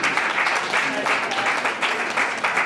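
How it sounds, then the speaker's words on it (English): Audience applause at a fundraiser event, a steady sustained wash of clapping lasting throughout, fairly loud and continuous, with some voices mixed in. "you can give me a round of applause for surviving and not that mad"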